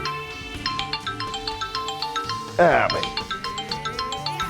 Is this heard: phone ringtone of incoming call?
yes